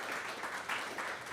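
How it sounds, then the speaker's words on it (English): Applause from a crowd at a tech Q&A session rises as a dense, even wash of clapping, steady and moderately loud throughout its brief span, without speech over it. "Round of applause."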